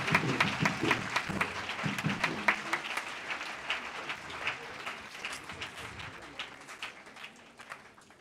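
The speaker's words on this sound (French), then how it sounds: "Acclamons le frère." An audience at a religious gathering applauds steadily, a dense patter of many hands that stays strong, then fades gradually toward the end.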